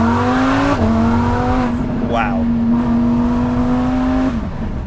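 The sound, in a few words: Lamborghini Huracan Sterrato V10 supercar accelerating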